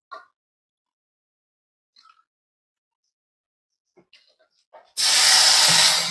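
Water is poured into semolina pulao cooking in a pan, bursting into a loud, sudden hiss and sizzle that follows several seconds of near silence broken only by faint taps and clinks.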